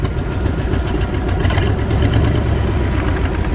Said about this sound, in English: Amazingly quiet for having straight pipes right there.